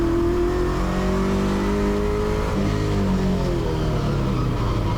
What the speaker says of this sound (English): The big V8 asks for more revs at 2, and Brian reluctantly accedes